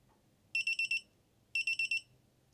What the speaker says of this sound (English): when it's done, it literally beeps this kind of annoying beep